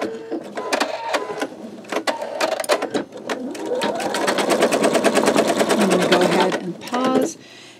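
An embroidery machine stitches the legs of a bumblebee quilt block, its rapid needle chatter running loud and steady close by, broken by short pauses and clunks before settling into a dense continuous rattle.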